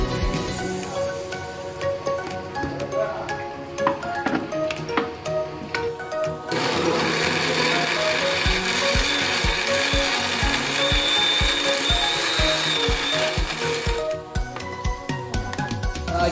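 An electric mixer grinder grinds chicken meat for burgers in a home kitchen. After some clattering it starts up with a loud, steady motor whir for several seconds, then cuts off.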